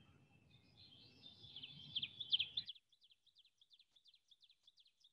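An ovenbird, the teacher bird, sings a rising series of bright, repeated two-note phrases, first over low rumbling background noise, then continuing alone as evenly spaced, fainter chirps.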